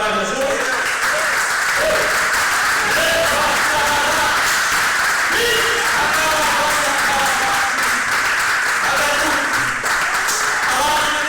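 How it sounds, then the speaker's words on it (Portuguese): A church congregation applauds during a sermon, loud sustained clapping mixed with cheering voices and shouts that stay prominent throughout. "Você pode dar uma salva de palmas para Jesus?"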